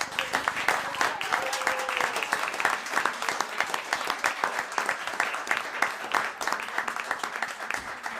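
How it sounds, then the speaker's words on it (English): Steady applause for kids fills a city council meeting chamber, a dense, even patter of many hands clapping nearby that holds throughout. "One more round of applause for these kids."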